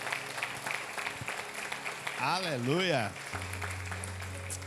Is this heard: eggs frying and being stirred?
no